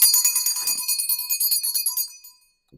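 A small handheld bell is shaken in rapid, even jingling strokes for a tarot clearing, bright and close, fading away after about two seconds.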